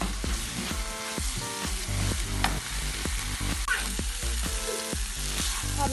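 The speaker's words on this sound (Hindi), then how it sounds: "5 मिनट तक हम इसको मीडियम फ्लेम पर अच्छी तरह पकाएंगे ताकि मसाले इसके अंदर अच्छी तरह अब्सॉर्ब हो जाएं।" Fish keema sizzles and fries steadily in a pan over a medium flame, with a continuous loud crackle and rhythmic stirring scrapes throughout.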